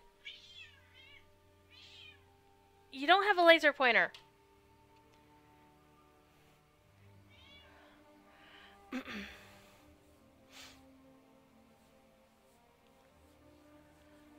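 A cat meows indoors, a few short faint mews followed by one long loud meow and a later shorter one, with a person speaking briefly in between against a quiet background.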